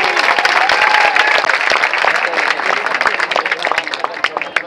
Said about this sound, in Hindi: एक बार सर के लिए तालियां हो जाए।